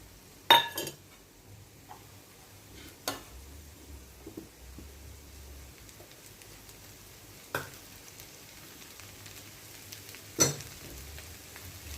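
Chopped banana flower and raisins fry quietly in a pan with a soft, steady sizzle, broken by a few sharp clinks of a utensil against the pan.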